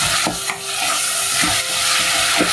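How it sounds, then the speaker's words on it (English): Prawn curry masala sizzles in a pan while being stirred, a bright steady frying hiss with soft scraping strokes of a spoon passing through the thick paste. "Give it a little stir."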